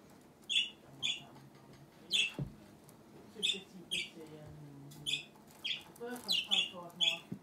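Two pet budgies chirping back and forth in a room, a steady run of close, bright chirps and short warbles at roughly half-second intervals, with faint voices and low household noise underneath.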